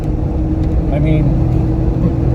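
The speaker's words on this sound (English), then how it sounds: "we're doing 50 miles an hour right now" A Jeep Gladiator on 40-inch tires with Dana 60 axles cruises at 50 mph, its road and tire roar forming a steady broadband drone under conversation inside the cab.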